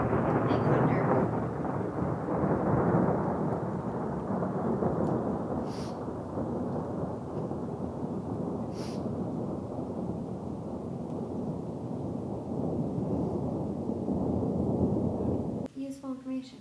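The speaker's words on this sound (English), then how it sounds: "Big thunder." Thunder rumbles through a heavy snowstorm with sleet, a long loud roll that swells and lingers for most of the span. Wind buffets the microphone, and a voice cuts in briefly at the end.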